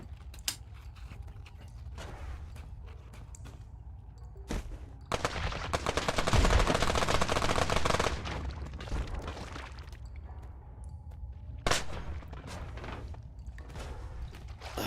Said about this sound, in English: I love these bouncy bullets